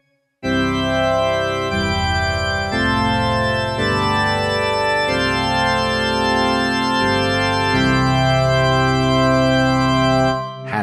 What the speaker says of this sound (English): Organ sound, like a church organ.